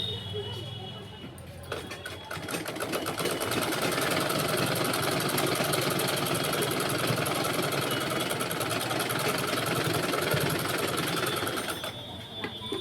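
A sewing machine runs steadily, stitching the fitting into a blouse with a loud, fast, continuous mechanical whir that starts after a brief moment and carries on to the end.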